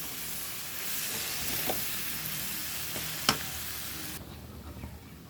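Cluster beans poriyal cooking in a pan on a low flame, a gentle continuous sizzle and hiss with a couple of brief stirring clicks, then the sound drops off toward the end.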